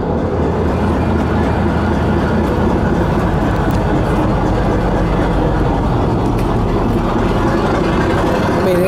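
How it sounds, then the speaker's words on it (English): A big old Caterpillar diesel engine runs aboard a fishing and crabbing boat, a loud, steady, heavy low rumble that stays constant throughout and sounds close by, with no talking. "Big old Catepillar motor."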